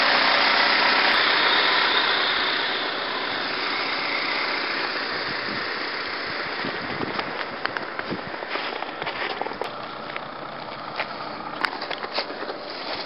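A 1.7 liter four-cylinder Honda Civic engine idles close by, with a steady broad hum that settles slightly quieter after the first couple of seconds, plus some faint clicks and small rattles.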